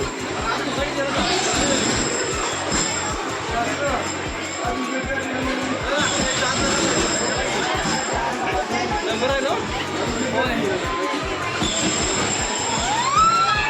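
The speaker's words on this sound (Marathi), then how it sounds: "टाईम फॉर अ ट्रेन आता आम्ही ट्रेनमध्ये जाणार आहेत" A train ride at Sayajiraje Park in Akluj rumbles along with squealing wheels throughout, under lively chatter from passengers talking nearby.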